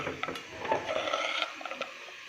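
Bread pieces being stirred into homemade caramel in a pan over low heat, with soft scraping and light clinks of a utensil against the pan, close and quiet, ending in a sharper knock.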